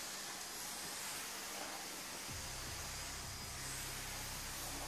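A Black and Decker steam mop releases steam in a steady broad hiss that swells in the second half, joined by a low rumbling hum, close and continuous with no talk.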